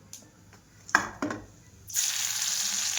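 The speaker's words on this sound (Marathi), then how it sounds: "पहिल्यांदा मोहरी टाकून घेतली बघा, फोडणी द्यायची, चांगली तडतडली" Mustard seeds crackle and sizzle in hot oil as a tempering is made. A couple of sharp pops come first, then a loud, steady sizzle takes over.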